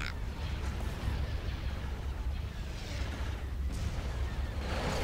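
Spaceship weapons firing in Star Wars: Republic at War, a dense, rumbling barrage of blasts and booms rolling continuously at moderate level with a few sharper bursts standing out.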